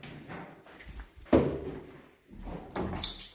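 A door closing in a house on Madeira with a brief thud near the middle, plus softer creaks and scrapes around it; faint indistinct background sound, nearby.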